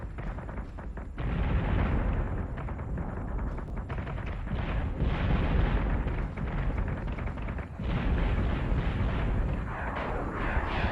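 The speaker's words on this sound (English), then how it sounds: "We're taking sustained fire." Sustained weapon fire in Battlestar Galactica: Deadlock, a dense, loud barrage of overlapping booms and bursts rolling almost without pause like an artillery storm, with a brief lull near the start and again near the end.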